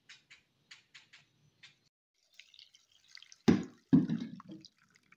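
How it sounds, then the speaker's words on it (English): Onion skin dye water strained through a sieve, heard as a few light drips at first, then a louder close splash and gushing pour that trails off into trickles. "here I am actually just straining the onion skins"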